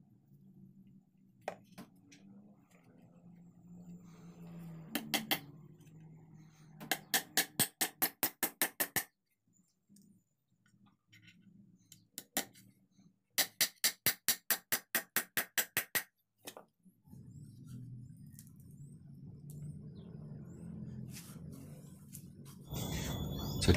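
A carpenter hammers nails into a glueless wooden joint, with rapid bursts of sharp metallic strikes in two long fast volleys plus scattered single taps, separated by quiet pauses and low background hum.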